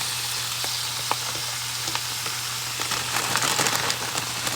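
A 9-ounce package of spinach cooks in a pan on a stove that has been turned down a little, giving a steady close sizzle with light crackles and a soft crinkling over a low constant hum.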